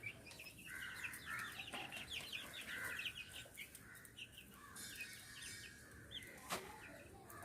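Backyard chickens cluck and chirp in repeated short bursts over faint background noise, moderately close, with no talking.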